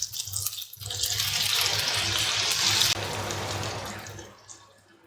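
Chicken pieces hiss and sizzle loudly as they go into hot butter and oil in a pan, a broad steady crackle that swells, holds, then fades toward the end, close by with no talking.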